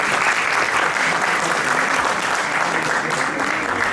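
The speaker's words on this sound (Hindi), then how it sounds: "इतने शानदार नाटक के लिए जोरदार तालियां" An audience applauds steadily and enthusiastically after a stage play, a dense, sustained clapping that holds at the same level throughout.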